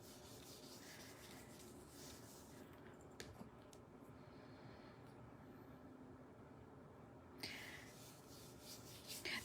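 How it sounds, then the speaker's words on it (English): An embossing tool rubs across paper while an orchid papercraft is assembled, a soft, steady scratchy friction heard close and alone. "Grab your embossing tool again."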